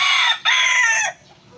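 A rooster crows loudly and close by, one strained, hoarse call broken by a brief gap, then cut off abruptly into quiet.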